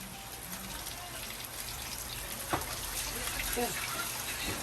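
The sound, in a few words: running tap water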